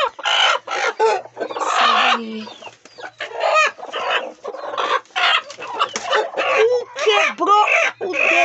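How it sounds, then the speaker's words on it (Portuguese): A black broody hen clucks in repeated short bursts, close and fairly loud, while a person talks intermittently over the farmyard at night. "Galinha preta que a gente tem, ó. Galinha choca."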